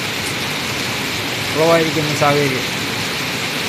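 Steady rain falls at Anakkal in Kanjirappally, a constant broadband hiss of drops on surfaces, with a voice briefly speaking over it.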